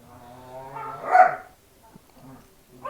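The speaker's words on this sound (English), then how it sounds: "Sorry if you can hear the dogs messing around in the background." Dogs bark and yip in the background during a garden session potting sunflower seedlings, with one louder bark among whimpering sounds and no speech.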